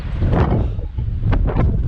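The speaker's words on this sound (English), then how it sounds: "Whoa, got some wind." Strong wind buffets the microphone of a cyclist riding on a blustery day after a big climb, a loud continuous low rumble with gusty surges throughout.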